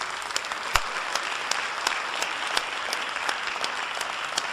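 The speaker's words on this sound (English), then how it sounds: "recognize them with a robust round of applause" An audience at an academic forum on statutory rape law claps in a steady round of applause, many hands blending into a dense patter with a few sharper nearby claps standing out.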